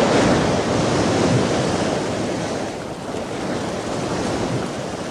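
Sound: sea waves and surf

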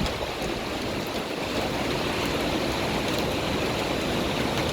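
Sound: floodwater flowing along road

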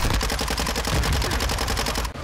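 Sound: submachine gun fire in video game Call of Duty: Modern Warfare 2

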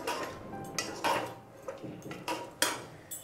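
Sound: stirring spices in a cooking pan

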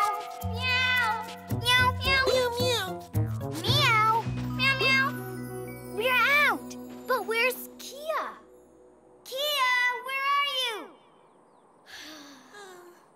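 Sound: person imitating a cat meowing

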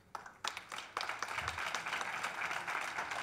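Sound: audience applause for a speaker

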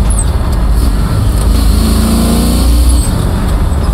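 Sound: 1969 Chevrolet Camaro SS engine downshifting

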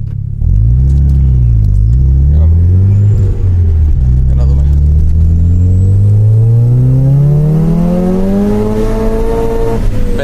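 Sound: car engine idling and revving

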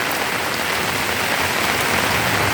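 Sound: rain falling

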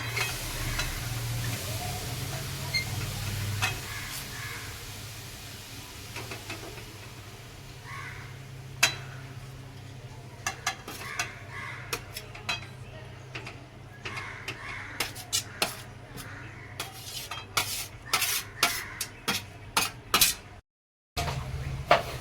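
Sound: grated carrot sizzling and stirred in ghee in a kadhai

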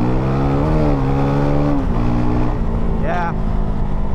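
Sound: KOVE 450 Rally dual-sport motorcycle engine revving

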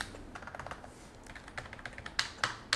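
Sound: typing on Ocelot Gaming MX OGEK03 mechanical keyboard

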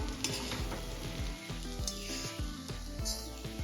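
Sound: stirring sabudana khichdi in a kadai

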